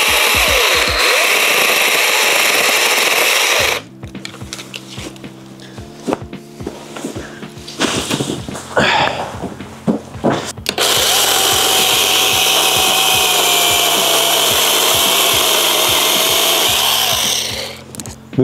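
A VEVOR battery-powered chainsaw cuts through wood, its loud steady whine starting near, dropping into a lower laboring buzz with rattling as the chain bites through the log, then rising again to a high free-running whine before cutting off.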